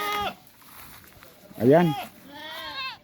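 A goat gives a loud, wavering bleat up close, followed by a second shorter bleat, with a person talking briefly around the calls.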